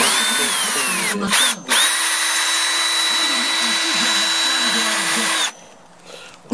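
A power drill with graduating drill bits whines loudly and steadily, with a couple of brief dips early on, then cuts off near the end, leaving quieter sounds.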